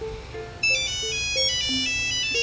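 A cell phone ringtone rings loudly and close with a repeating electronic melody of bright tones, a fainter earlier chime before it, and no talk.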